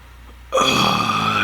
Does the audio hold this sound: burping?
yes